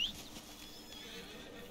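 A horse whinnies briefly at the start in Red Dead Redemption 2, then a low steady ambient hum continues with no voices.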